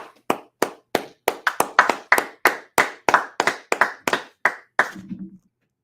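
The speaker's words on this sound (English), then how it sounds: "Let's go ahead, clap it up." Sharp, loud, evenly spaced claps ring out in a tight unison rhythm, about fifteen strikes in a row from a group at a law class, then stop abruptly, leaving a short low murmur.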